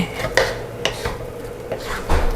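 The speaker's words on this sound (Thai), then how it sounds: "ผัดหมูให้สุกแล้วจ้ะ ผัดไปเรื่อยๆนะคะ" Minced pork stir-fried in a pan for a keto nam prik ong: close scrapes and clinks of a utensil against the pan come in irregular bursts, with a low sizzle running beneath and no talk.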